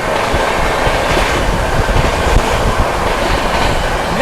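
The New Delhi–Dibrugarh Rajdhani Express rushes past close by, a loud, continuous roar of wheels and rattling carriages that holds steady throughout.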